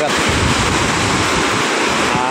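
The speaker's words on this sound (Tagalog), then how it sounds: "Medyo humina na po ng konti yung alon" Typhoon-driven ocean waves at Manila Bay in Navotas, heard as a loud, steady, broadband roar of surf with strong low rumble and wind buffeting, continuous throughout without pauses.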